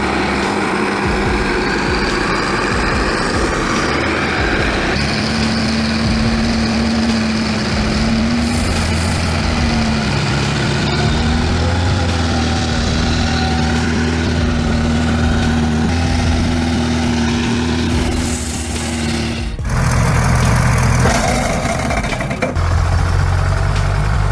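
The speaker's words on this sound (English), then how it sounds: "The engine roared loudly, the winch whined" A heavy logging truck engine drones loudly and steadily in deep mud on a slippery road, with a rising whine and a sharper surge near the end, continuous and close throughout.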